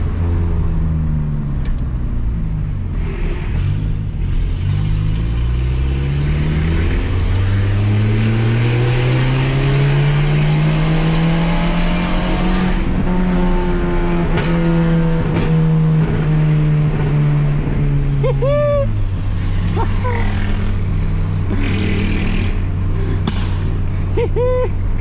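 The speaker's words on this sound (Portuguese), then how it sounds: "o pipoco que esse carro deu aqui também, certeza que cuspiu uma labareda de fogo" A Peugeot 206 fitted with a diffuser accelerates hard past a small gas station. The engine note climbs, holds, then drops, punctuated by several sharp exhaust backfire pops.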